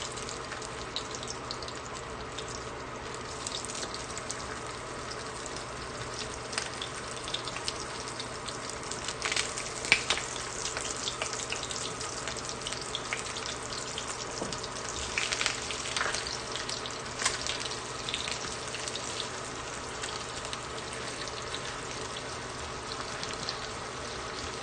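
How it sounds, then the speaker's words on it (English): Six slices of Spam pan frying: a continuous bright sizzle and crackle throughout, close and even, with occasional louder pops and faint stirring, and no talk. "So now we're going to go ahead and pan fry these."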